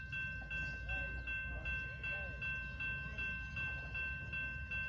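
A CSX empty coal hopper train rumbles steadily at a distance, a faint low roar with a thin sustained tonal whine above it and soft rhythmic clicking throughout.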